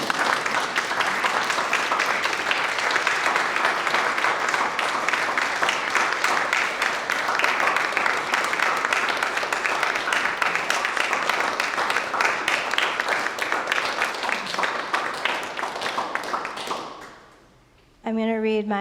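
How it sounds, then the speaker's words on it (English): Dense, steady applause from a large audience at a talk keeps going for over fifteen seconds before cutting off abruptly, followed by a brief moment of speech. "I think everybody could clap for them."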